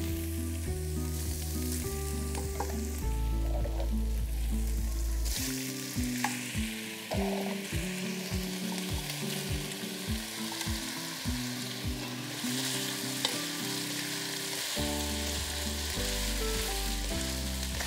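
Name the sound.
potatoes and onions stir-frying in oil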